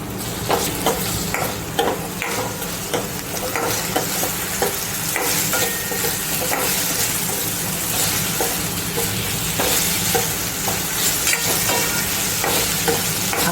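Leftover roti pieces sautéed with salt in a pan, Kathiyawadi-style snack, sizzling loudly and continuously while a spatula stirs and scrapes repeatedly in an uneven rhythm, with no one speaking.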